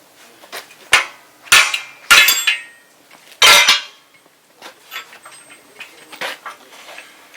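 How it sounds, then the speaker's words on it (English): Metal-on-metal hammer blows on a chisel driving out a Suzuki Samurai rear wheel bearing, several sharp ringing strikes in an irregular rhythm, close and loud, then lighter clinks. "Take the chisel, put it in the slot."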